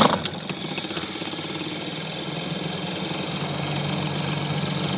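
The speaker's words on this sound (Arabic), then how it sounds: "الآن تسمع غير المحرك يزنزن" The dryer motor of a washing machine under repair hums steadily and close by, a continuous mechanical drone with a faint vibration. It runs alone with no talking.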